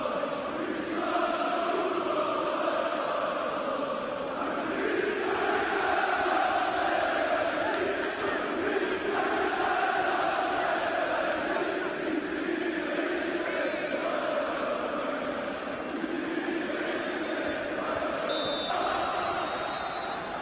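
Beşiktaş football fans in the stadium stands chant in unison, a dense sustained roar of many voices with a rhythmic rise and fall, steady and loud throughout without a break.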